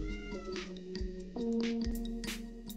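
A cat in mating season lets out drawn-out, wavering yowls and meows, close and loud, with several rising and falling cries in a row.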